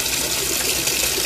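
Water gushes steadily from a washing machine in a laundry setting, a continuous broadband rush with no pauses, close and fairly loud throughout.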